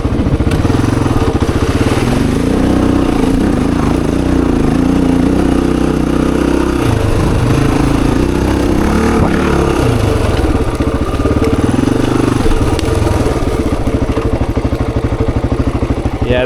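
A Honda XR400 dirt bike engine thumps steadily and loudly while riding a trail loop, with a continuous close-up drone whose pitch rises and falls as the throttle rolls on and off, plus some clatter.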